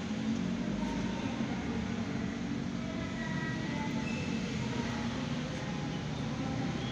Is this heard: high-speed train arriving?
yes